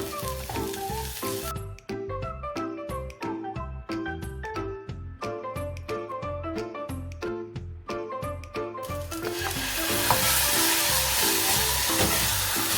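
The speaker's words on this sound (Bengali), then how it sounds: "আমি পেঁয়াজ ভাজাটা আরেকটু স্মেল আনবে, আরেকটু সুস্বাদু হবে, তাই এটা অ্যাড করলাম।" Onions frying in a pan for a fish and gourd-peel mash break into a steady, close sizzle in the last few seconds, after a long stretch of music.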